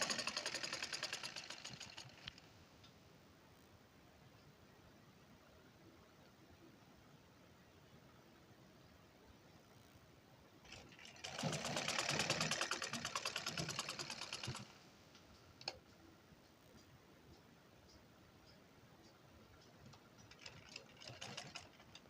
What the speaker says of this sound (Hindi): अब यहाँ से हम पक्की सिलाई लगाएंगे